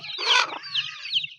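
Chickens bought for a hardworking farmer in rural Thailand cluck in a short burst, with a couple of quieter squawks following, close and loud with no talking.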